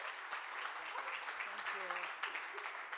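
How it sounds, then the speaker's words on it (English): An awards-ceremony crowd at a marketing hall of fame induction claps continuously, a dense moderate ovation with a few voices calling out over it. "give me a round of applause"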